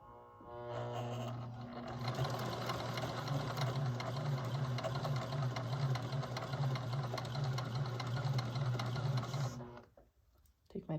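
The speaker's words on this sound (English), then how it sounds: "I'm going to sew all along the edge." A sewing machine stitches along the finished armhole edge of an apron, running loud and steady for about eight seconds with a fast rhythmic whir, then stopping.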